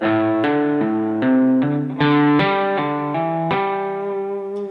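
Distorted electric guitar plays a pentatonic phrase of legato notes, hammered on and pulled off in a steady stepwise sequence, loud and close with effects, no voice.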